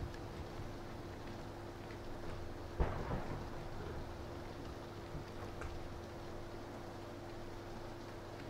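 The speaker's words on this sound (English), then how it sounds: "Not enjoying this rain. This rain is not my friend." Rain and thunder in PUBG Battlegrounds, a faint steady patter of rain with one sharp thunderclap near the start, alone with no talk.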